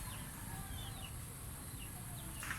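Chickens in a rural Philippine yard at feeding time, soft scattered clucks and faint calls over a steady noisy outdoor background, moderately distant with no talking.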